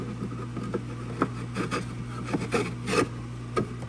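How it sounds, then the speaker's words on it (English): Sandpaper rubs over an old hundred-year-old wooden piece in short, uneven rasping strokes, fairly quiet and close, over a low steady background hum. "So it's an easy sand job."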